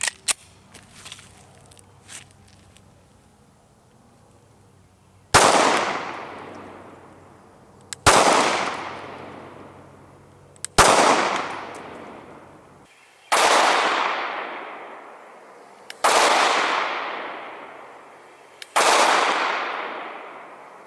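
Six sharp pistol shots from a Glock 43 subcompact firing Critical Defense ammunition, spaced a few seconds apart, each loud and close with a ringing decay, after a quiet stretch of faint handling noise.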